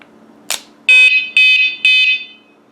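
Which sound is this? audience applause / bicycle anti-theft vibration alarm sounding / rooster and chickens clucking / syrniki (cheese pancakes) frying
bicycle anti-theft vibration alarm sounding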